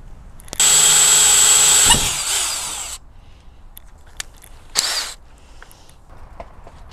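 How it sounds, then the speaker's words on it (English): A power drill bores a bolt hole for a transmission cooler bracket on a Lexus GX460, with a loud, steady whine lasting about a second and a half, then tapering, followed by a brief second burst and light handling noises. "I'm going to go ahead and start drilling my hole"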